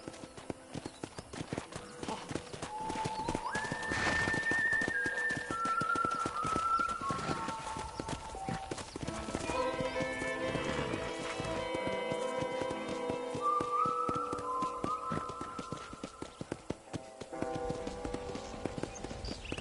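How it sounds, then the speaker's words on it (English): Horse hooves clip-clop steadily at a walk in the western video game Red Dead Redemption, a rhythmic series of moderate taps running throughout with faint background tones and no talk over them. "I picked out a fine horse for you."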